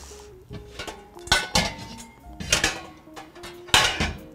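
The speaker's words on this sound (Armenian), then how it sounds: "Ես վերցնեմ համապատասխան ամանը եւ այն լավ սուր չքնաղ դանակը" Bowl and knife being picked up and handled in a kitchen, a run of sharp clinks and clatters of metal and dishware, several loud knocks spaced irregularly, close by.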